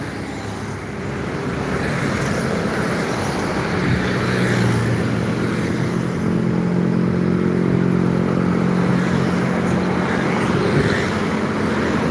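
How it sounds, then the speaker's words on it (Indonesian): Steady roar of highway traffic with a heavy LPG tanker truck rumbling past, a low engine drone building and lingering under constant road noise. "Ada truk LPG."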